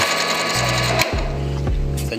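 A milling machine spindle switches on and runs with an end mill fitted, giving a steady close mechanical hum with a brief jolt as the motor engages, then continuous whirring.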